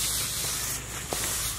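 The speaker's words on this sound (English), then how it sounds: "run out of spray" Aerosol flea spray hissing continuously at close range in a flea-infested house, a loud steady spray filling the whole moment with no voices.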